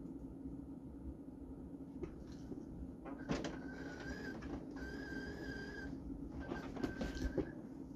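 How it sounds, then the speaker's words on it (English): An inkjet-style home printer printing a 5x7 Valentine's Day greeting card, with a steady mechanical hum and several bursts of whirring carriage and feed motor noise, tonal squeals, and clicks as the card passes through. "So it's now printing out."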